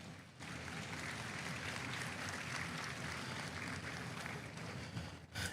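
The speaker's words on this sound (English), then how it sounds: "Let's give all our broiler exhibitors a round of applause." A crowd at a market broiler sale applauds the broiler exhibitors, soft, steady clapping from a distance that holds evenly for several seconds before breaking off.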